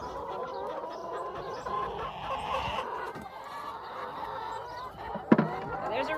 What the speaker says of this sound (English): Ooh, chickens.